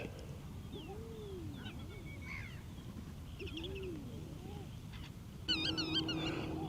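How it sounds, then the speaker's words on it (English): Faint eider duck and snipe calls drift over quiet outdoor ambience on the Seltjarnarnes Peninsula, Iceland: soft cooing and scattered chirps, with a sharper burst of warbling calls near the end. "I hear the eider ducks. I hear the snipe."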